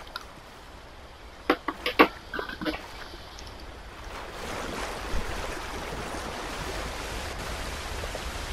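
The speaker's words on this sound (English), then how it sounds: "I'm gonna go down this waterfall." Rushing water from a waterfall, a steady broadband wash that swells from about four seconds on, after a few sharp knocks and splashes near the start.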